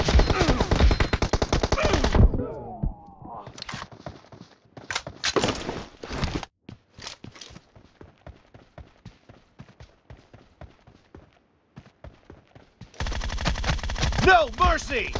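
Gunfire in PUBG Mobile, with loud sustained automatic bursts at the start and end and scattered single shots and clicks between them, all close and sharp with no talk over it.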